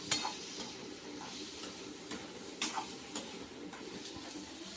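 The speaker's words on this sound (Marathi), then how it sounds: "तर बघू शकता आपल्या तुरी वगैरे टाकून झालेल्या आहेत छान प्रकारे याला फ्राय करून घ्यायचं" Pigeon peas fry in oil in a pan with a soft, steady sizzle. Light metallic clicks and scrapes of stirring come through at irregular moments, fairly close and not loud.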